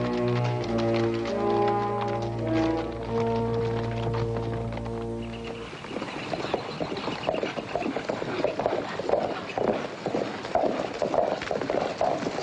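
Horses' hooves clip-clop in a quick, irregular patter, entering around the middle and continuing under fading sustained music from before, with no speech.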